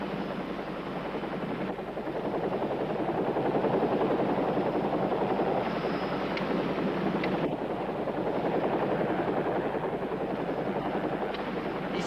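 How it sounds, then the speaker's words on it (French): Pink helicopter flying overhead, a loud continuous rotor roar that holds steady and swells slightly for the whole stretch, with no voices. "Les flics peignent pas leurs hélicos en rose."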